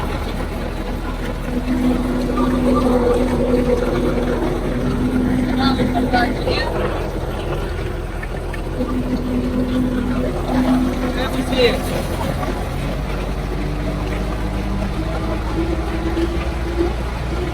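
A farm tractor drives out to the field to sow oats, its steady engine drone and rumble running continuously under people talking.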